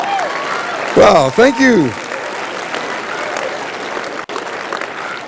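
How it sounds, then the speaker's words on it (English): A university chapel audience applauds, a broad steady clapping that runs through the whole stretch. Someone speaks briefly over it near the start. "You can clap, I'll wait."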